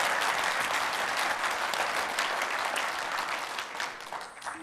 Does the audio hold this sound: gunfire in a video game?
no